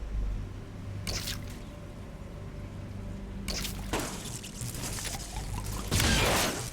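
Squishy, dripping water-gun shots from a stealth video game: a few wet bursts scattered over a faint hum, the loudest near the end.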